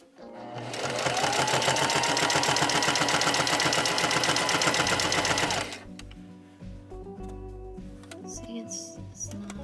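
A sewing machine runs a straight line of stitches at a fast, steady, loud rhythm, then stops abruptly after about five and a half seconds, leaving quieter handling sounds.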